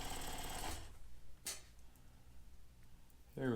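A saw cuts out a wooden jigsaw puzzle piece with a dense, sewing-machine-like buzz for under a second, then cuts off, leaving a quiet tail before a brief voice at the end.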